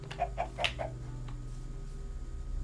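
Chicken clucking in Minecraft, a few short, moderately loud clucks early on over a steady low game hum, then fading into quiet background.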